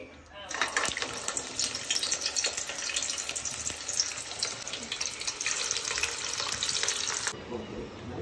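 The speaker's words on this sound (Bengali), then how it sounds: "এইবার এগুলো ফ্রাই করা হবে, তেলের মধ্যে ফুস করে ছাড়া হবে" Bitter gourd slices dropped into hot oil in a wok, giving a loud, steady sizzle and crackle of frying that holds for several seconds, then eases off slightly near the end.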